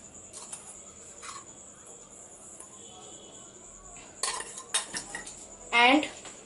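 Eggs and powdered sugar are mixed in a big oval bowl, with faint scraping at first, then sharper clinks and knocks of a utensil against the bowl growing louder toward the end.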